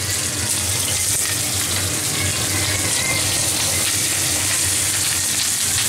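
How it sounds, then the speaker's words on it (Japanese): Food sizzles and crackles steadily in a frying pan that has been preheated until hot, a loud, continuous hiss with no talking over it. "このジューって音が好きなんですよね、自分。"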